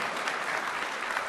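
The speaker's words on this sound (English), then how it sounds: "You can applaud." An audience at a Microsoft Build 2014 keynote claps steadily, a dense, even wash of applause from a large crowd filling the whole moment.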